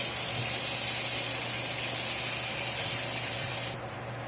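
Shrimp hit a pan of buttered garlic and sizzle, a loud, steady, bright hiss close up with a faint low hum beneath, easing off suddenly toward the end.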